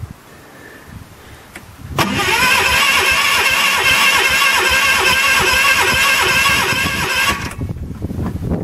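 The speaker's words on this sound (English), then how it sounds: "And we got the Aaron's loader up here" A loader's engine cold-starting at 18 degrees: after a quiet stretch it cranks and catches abruptly, then settles into a loud, steady idle with a rattly mid-range drone before cutting back near the end.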